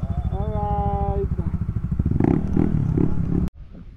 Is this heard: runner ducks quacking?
no